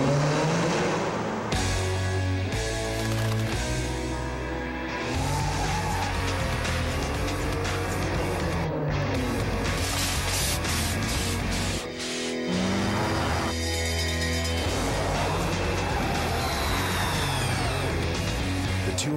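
A Nissan Altima SE-R engine revs and accelerates loudly in a TV commercial, with roaring passes, a brief tire squeal and dense musical backing throughout.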